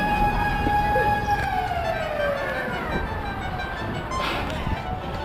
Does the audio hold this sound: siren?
yes